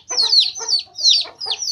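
Hen clucking at close range in a backyard flock, four sharp, loud bursts in a quick repeated rhythm, alone without talk.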